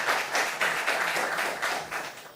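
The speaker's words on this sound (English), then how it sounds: "A round of applause for them, please." A brief burst of audience applause at a senior high school quiz competition, many hands clapping together in a dense, steady patter that fades slightly at the end.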